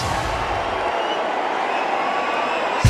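A cricket stadium crowd at an India vs West Indies T20 match in Hyderabad roars steadily in a dense wash of cheering, with a low rumble fading early and a thump at the end.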